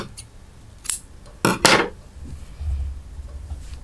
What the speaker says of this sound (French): Et on va couper.